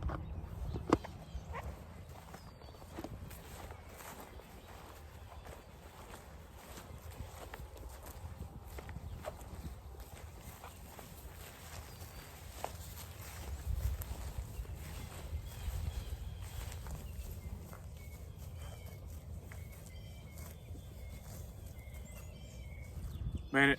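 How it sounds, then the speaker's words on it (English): Dexter cattle grazing close by, tearing at spring grass with soft, irregular ripping sounds and occasional shuffling steps, faint against a low outdoor background. "it sounds really good to hear ripping grass again"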